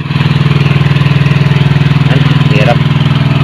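A small boat engine chugs loudly in a fast, even pulse, running steadily throughout, with a brief voice over the top near the end.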